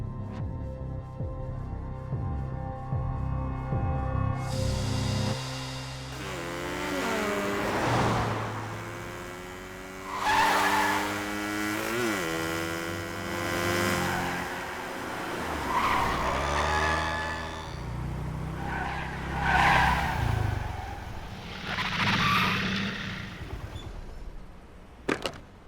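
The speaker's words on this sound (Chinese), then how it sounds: "还好刚才我来得及刹车" A car skids under hard braking, tires squealing in long wavering screeches that rise and fall over more than twenty seconds, with engine noise and a few sharper bursts near the end.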